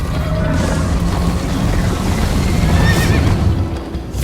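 A horse whinnies loudly over rumbling hooves and clattering action in Minecraft: Story Mode, with a high squealing neigh near the end, all sounding like game effects.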